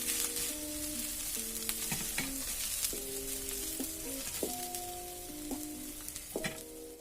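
A protein dosa sizzles and crackles steadily on a hot pan just after flipping, a dense continuous frying hiss with faint tonal whines in the background and no talking.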